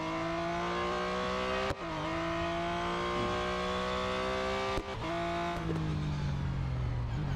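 Porsche Mission R racing in the Real Racing 3 game, a steady synthetic engine whine climbing through gears with two sharp shift drops and a falling pitch at the end, with no voices.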